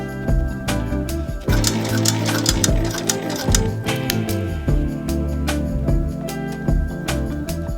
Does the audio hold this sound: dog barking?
no